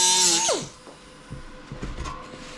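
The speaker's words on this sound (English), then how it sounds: "Now I'm just going to grind down this a little bit." A power grinder works on metal on the door pillar of an International truck, a loud high whine for about half a second that falls away, followed by quieter scrapes and clunks.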